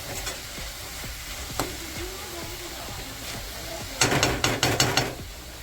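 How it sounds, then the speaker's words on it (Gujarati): A spoon scrapes and stirs green turmeric with green onion and garlic in a sizzling pan. Soft, repeated strokes run under a steady fry, ending in a quick burst of louder, clattering scrapes. "લીલી ડુંગળી ને લીલું લસણ વધારે નાખવાનું છે પછી બંનેને મિક્સ કરવાનું છે"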